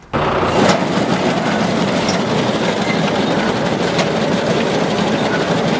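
Hydraulically driven rollers on a John Deere 1219 mower-conditioner run with a loud, steady mechanical rumble and clatter that starts abruptly and continues evenly, close by.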